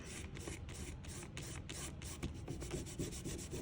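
Oil pastels rubbed hard on paper while making a heart artwork, giving a close, faint, continuous scratchy rasp in short repeated strokes, without voices.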